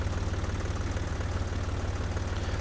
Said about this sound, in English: I need to buy a faster tractor